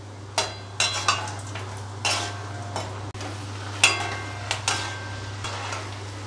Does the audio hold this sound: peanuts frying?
yes